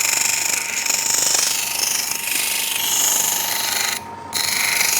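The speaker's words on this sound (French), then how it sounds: "Je vais vous montrer comment on meule une lunette à la main." Eyeglass frame being ground by hand on a grinding wheel at an optician's workshop, a loud continuous high-pitched grinding whine that holds steady and cuts out briefly near the end before resuming.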